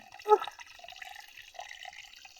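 A single soft drip lands near the start, followed by faint, quiet trickling and small water sounds at a well, in an otherwise hushed space.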